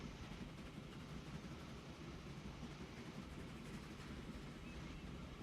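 Train rumbling along the tracks in the railway-building game Transport Fever, a steady low drone with faint clatter that holds constant for the whole stretch, with no speech.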